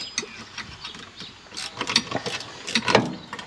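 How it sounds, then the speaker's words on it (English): A ratcheting spanner clicks in quick bursts of sharp metallic ratchet ticks, close by, as it works on a car, a C33 Laurel. The bursts come in irregular runs and grow busier toward the end. "This is something I need at home, is ratcheting spanners."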